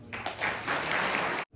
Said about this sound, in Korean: 감사의 자축의 박수